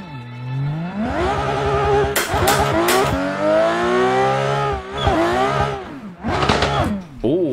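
VDC F22 car in the Assetto Corsa racing game spinning out on a clutch kick: the engine revs climb and waver loudly, broken by sharp bursts of tire squeal, with pitch swooping as the car slides.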